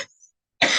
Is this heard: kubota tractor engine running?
no